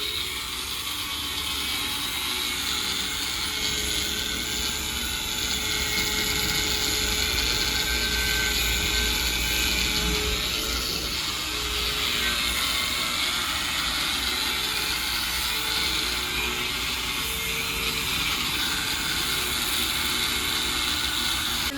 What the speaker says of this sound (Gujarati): વેલ્ડિંગ વાળા ભાઈ છે ગ્લાઇન્ડર લઈને આવ્યા ગ્લાઇન્ડરેથી કાપે છે